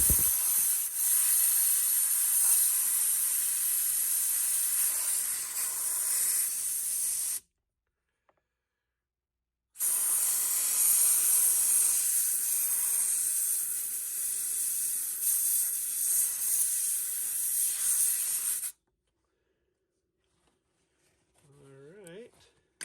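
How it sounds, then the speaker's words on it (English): A steam cleaner blasts hot steam onto a half dollar coin ring clamped in place, two long loud hissing bursts separated by a brief pause, then quiet with a faint clink at the end. "here we have my steam cleaner, and I'll just take the ring and clamp it in here to kind of keep my hands out of the hot steam"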